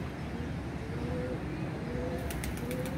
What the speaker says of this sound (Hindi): 2-3 कबूतर इस टाइम पे बैठे हुए हैं